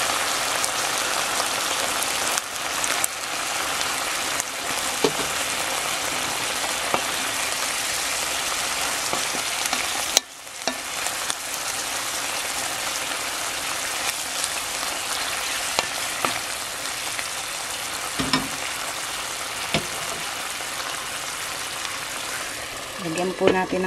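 Tomato puree hits a pan of beef stroganoff with a steady, close sizzle and crackle that holds for the whole stretch, with a few brief stirring clatters and no talking.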